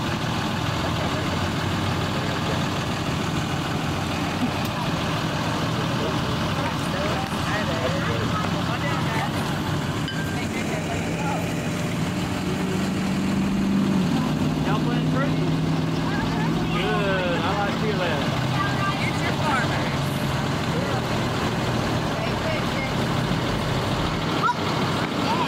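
A school bus engine idles with a steady low rumble throughout, while voices of adults and kindergarten children carry over it outdoors.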